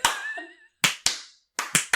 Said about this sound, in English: He starts a slow clap.